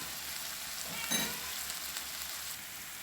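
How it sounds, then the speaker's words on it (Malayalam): Sliced onions with a pinch of salt sauté in a pan for a beef curry, giving a steady, close sizzle with one brief stirring scrape partway through. "ഇപ്പോൾ സവാള അത്യാവശ്യം വഴന്നിട്ടുണ്ട്"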